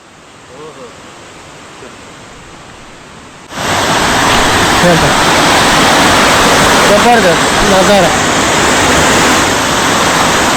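Waterfall in a dense forest near Ratnagiri during heavy monsoon rain, a loud, steady broadband rush that surges in at once and then holds close and constant, with a voice talking over it.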